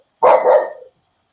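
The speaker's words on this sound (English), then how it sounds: "oh, okay, little dog." A small dog gives a single short, sharp bark indoors, clear and close against otherwise silent surroundings.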